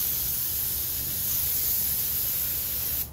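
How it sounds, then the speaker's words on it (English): A spray gun lays custom paint onto a lowrider, producing a constant, close, loud airy hiss that runs unbroken before cutting off at the end. "We're going to put more paint on. So we're going to pass everything over."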